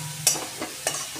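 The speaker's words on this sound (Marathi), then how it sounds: "सर्व मिश्रण आपण छान असं मिक्स करून घेणार आहे" Sweet patolya filling mixture stirred in a pan, with three distinct spoon scrapes over a soft sizzle, close and clear, with no voices.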